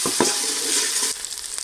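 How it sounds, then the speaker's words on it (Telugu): Ginger garlic paste sizzles loudly in a hot pan, a continuous bright frying hiss with a few stirring scrapes and no voices. "ఇది కొంచెం పచ్చివాసన పోయే వరకు ఫ్రై చేసుకోవాలి."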